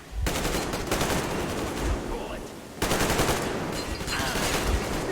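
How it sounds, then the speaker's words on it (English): Sustained automatic gunfire in the video game Metro Exodus, loud rapid bursts that fill nearly the whole stretch, with one short break near the middle before the firing resumes just as heavily. "Where's the shooting coming from?"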